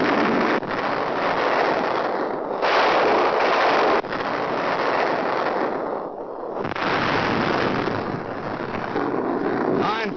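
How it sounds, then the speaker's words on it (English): Artillery guns firing at Cassino in a 1943 wartime newsreel: a loud, continuous barrage of booming blasts that merge into a dense roar over about ten seconds, with no pauses. "our big guns let them have it"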